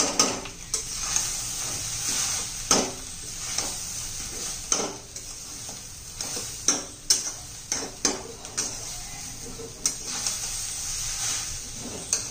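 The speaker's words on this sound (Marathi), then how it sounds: "चांगलं सुक्क खोबरं होईपर्यंत आपण परतून घ्यायचं आहे" Grated coconut is sautéed in a pan with a soft continuous sizzle and irregular spoon scrapes and taps against the metal, close and alone.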